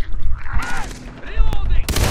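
Assault rifle fire from a Far Cry 3 co-op firefight, loud and close in bursts, with further shots and a sharp blast near the end, while voices talk over the gunfire.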